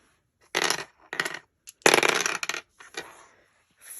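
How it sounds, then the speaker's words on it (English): Two dice rolled by hand onto a tabletop during a board game with no dice tower, giving a few rattling bursts of clattering and bouncing hits, fairly close, with no talk. "And you're going to roll 2 dice."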